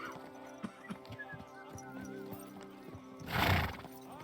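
Horse in the video game Kingdom Come Deliverance 2 clip-clopping along with soft, steady hoof beats, then letting out a loud, breathy neigh near the end.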